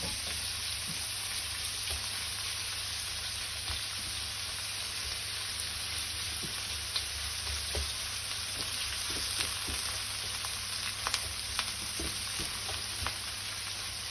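About 250 grams of mince fries in a pan with a steady, even sizzle and occasional small pops and stirring scrapes, close and without talk.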